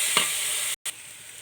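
A steady hiss of oil sizzling in a pan as curry leaves are sautéed for chicken curry, with a brief stir and a short drop-out midway.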